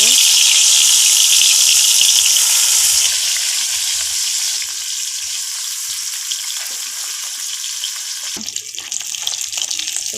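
Bata fish rubbed with salt and turmeric fry in oil in a wok, one batch at a time, making a loud, close, broadband hiss that eases to a softer steady sizzle, with a sharp scrape near the end.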